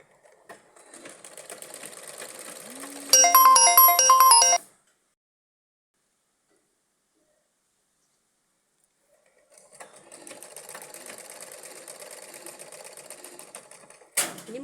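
An electric sewing machine stitches a zip onto a kurti in two steady runs of fast, close needle chatter, separated by several seconds of silence while the fabric is adjusted.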